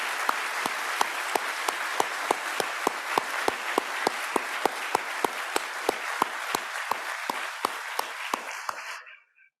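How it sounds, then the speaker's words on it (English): Dense audience applause at an awards celebration, steady and sustained with many hands clapping, then fading away at the end. "Please give a round of applause again to all of our honorees."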